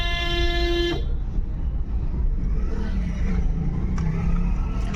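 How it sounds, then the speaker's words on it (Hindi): Car horn blasts for about a second in dense traffic on a busy road, a loud sustained honk followed by steady engine rumble and street noise. "हॉर्न दे के चलो।"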